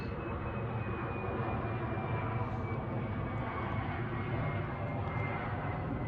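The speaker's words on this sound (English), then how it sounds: "it's all these planes that are landing at JFK, and they keep flying over here tonight" A steady, droning roar of an airplane passing overhead on its landing approach to JFK at night, continuous and moderately loud with a slight whine, and no voices.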